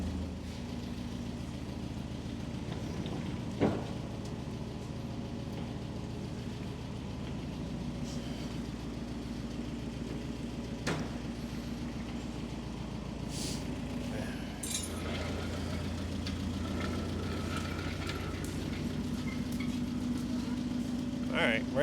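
The Cummins 4B engine of a Case 1840 skid steer runs at a steady idle for the whole stretch, with a low, even drone close by, occasional metallic clinks, and people talking over it.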